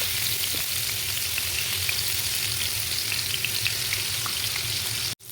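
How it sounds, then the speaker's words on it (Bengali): Fish rubbed with salt and turmeric sizzles steadily in a hot pan, a loud, continuous frying hiss that stays level throughout with no talking. "প্রথমে মাছটাকে লবণ হলুদ ভালো করে মাখিয়ে নিয়েছি, এখন পাইপ্যানের মধ্যে দিয়ে দিচ্ছি।"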